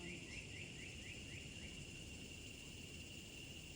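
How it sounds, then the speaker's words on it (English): Outdoor ambience with a steady high insect drone like cicadas and a short series of faint repeated bird chirps early on, all quiet and continuous with no talking. "or the birds or the cicadas in the background."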